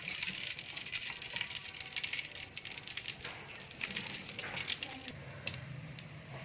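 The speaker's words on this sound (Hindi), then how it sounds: "घी गर्म हो जाए तो सबसे पहले हम इसमें डालेंगे खुश्क मसाला जात। इसको थोड़ी देर के लिए फ्राई करेंगे।" Whole dry spices sizzle in hot ghee, a steady crackling hiss that runs throughout, moderately loud and close, without talk.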